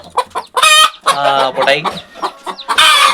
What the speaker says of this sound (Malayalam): ഇതാണ് നമ്മുടെ കോഴി കുഞ്ഞുങ്ങൾ തള്ളക്കോഴി അടിയിൽ